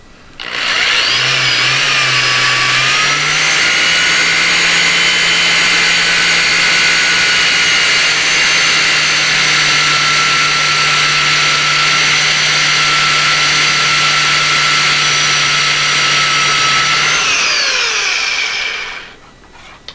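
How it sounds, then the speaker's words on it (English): A power drill whines steadily and loudly for most of the time, with its pitch holding level before it winds down at the end; no talking. "so we're going to drill this other hole"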